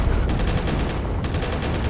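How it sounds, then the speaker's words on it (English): Rapid small arms fire in the Space Engineers video game, a fast continuous stream of repeated shots in steady, closely spaced pulses, loud and dense for the whole stretch. "Why is there so much small arms fire?"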